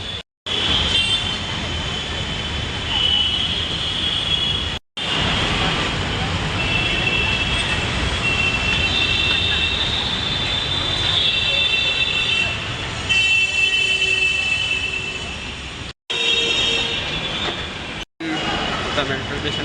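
Metro train running on rails, a loud, continuous rumble and rush of wheels and traction noise close by, with a few brief dropouts and faint voices.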